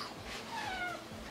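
A single soft cat meow, fairly faint and brief, rising and falling over a quiet, hissy background, with no one speaking.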